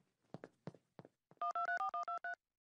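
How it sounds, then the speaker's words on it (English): A cartoon telephone dialed with a quick run of eight even electronic touch-tone beeps after a few soft footsteps or thuds, close and clear with no talking. "Excuse me, Lois, I have to go make a phone call"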